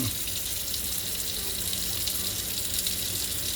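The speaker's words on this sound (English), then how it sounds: "I like to use the running water because then I'm assured that all the gel gets off." Running tap water rinses gel off deflasked Pink Princess plantlets, a steady close splashing stream over a sink with the flow unbroken throughout.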